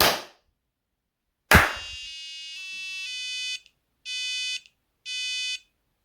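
A loud sharp bang, then a micro:bit noise-level alarm beeps in three bursts, the first longer and the next two short and evenly spaced.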